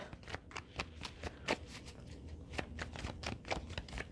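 Tarot cards being shuffled by hand, a steady series of crisp riffling slaps and soft flicks repeating at an uneven rhythm, close and moderately quiet with no talking.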